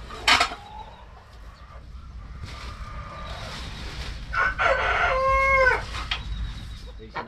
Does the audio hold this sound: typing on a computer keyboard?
no